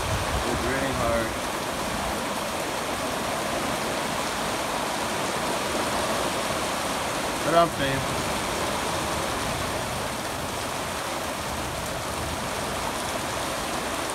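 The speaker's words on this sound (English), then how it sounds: "it's about 6 p.m. and it's raining hard." Heavy rain pours down in a steady, dense hiss throughout, while someone speaks briefly and quietly partway through.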